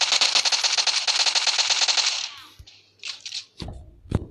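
Rapid automatic fire from a SCAR assault rifle in the mobile shooter PUBG Lite, a dense burst of shots lasting about two seconds, followed by a few scattered clicks and thuds.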